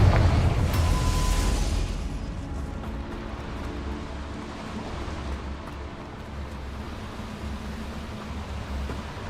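A Confringo fire spell explodes in Hogwarts Legacy: a loud, broad burst of blast noise in the opening two seconds, then a sustained rumbling crackle that tails off. No one speaks.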